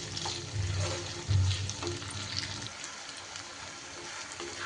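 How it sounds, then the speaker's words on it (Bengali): Chopped onion and tomato fry in a pan for paneer bhujia, giving a soft, steady sizzle with a couple of louder stirring bursts near the start before it settles into a quieter hiss. "এবার পেঁয়াজ আর টমেটোটা দিয়েও আবারও একটু ভাজা ভাজা করে নিতে হবে।"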